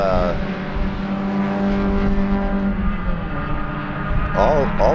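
Race cars circle at the Sebring 2 hour Enduro, engine drone steady and fairly loud throughout with passing tones and harmonic whine, while a voice talks over it.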